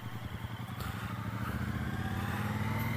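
A 2017 Triumph Bobber motorcycle engine runs steadily under way, a loud, continuous throbbing drone with a harmonic pulse that builds slightly as the ride goes on, heard alone without talk.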